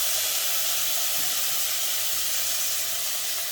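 Tomatoes hitting a hot pan for a jackfruit curry with turmeric and garam masala, giving a steady broad hissing sizzle that holds evenly for a few seconds with no talk.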